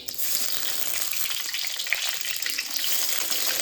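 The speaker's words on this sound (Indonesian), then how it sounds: "Kemudian kita mau goreng ikan gembungnya, ikan gembung rebus." Boiled Indian mackerel (ikan gembung) sizzles and crackles in hot oil in a pan, a dense, steady frying hiss close by throughout.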